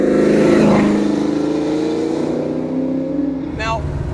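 Engine of a 1967 Shelby GT500 Eleanor muscle car with 200 horsepower nitrous, a loud, steady low rumble that swells and settles close by, with a brief higher squeal near the end.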